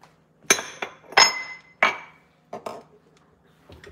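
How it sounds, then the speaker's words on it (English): Eggs are cracked against bowls and separated while making royal icing for a cake, giving several sharp clinks and taps at irregular intervals, close and clear in a quiet kitchen. "So I'm gonna go ahead and separate those eggs."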